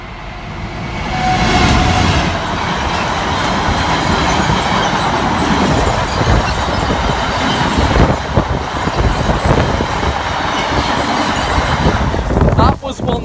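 Class 172 train passing the Metheringham station level crossing, a loud rumbling roar with rhythmic wheel clatter and metallic squeal, building quickly and staying close before easing off near the end, with brief voices in the background.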